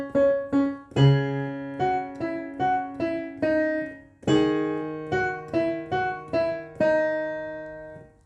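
Piano playing the chorus of a song at an easy tutorial level, a steady line of sustained chords and single notes that ring out and overlap, close and clear with no voice.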